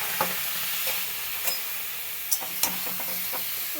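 Marinated chicken and vegetables hiss in a hot kadai, a soft, steady sizzle broken by a handful of sharp clinks and scrapes from stirring.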